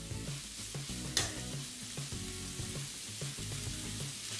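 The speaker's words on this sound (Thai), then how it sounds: "ผัดจนวุ้นเส้นเริ่มสุกนะครับ" Soaked glass noodles stir-fried in a hot pan give a steady close sizzle with a low rumbling hum underneath and a single sharp scrape of the utensil, no voices.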